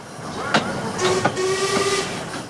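A steam traction engine whistle at a steam festival in Sheffield, Tasmania sounds in short shrill blasts over a hissing background, with a brief toot followed by longer steady tones.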